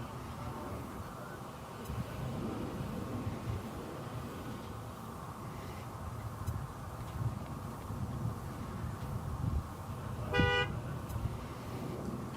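A car horn honks once briefly, with a clear tonal burst standing out over steady traffic and wind noise at DFW Airport.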